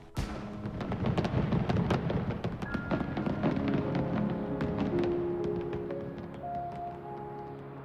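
Chinese New Year fireworks bursting in rapid succession, a dense crackling barrage of booms and pops that gradually thins out, with whistling tones rising near the end.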